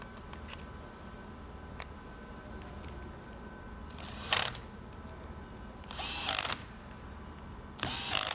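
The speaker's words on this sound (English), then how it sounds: "insert it back on and reinsert your 3 bolts" Bolts are reinserted and fastened while a Jarvis USSS 21-22A is reassembled: three loud bursts of tool and metal noise, the last running to the end, separated by quiet stretches with a few faint clicks.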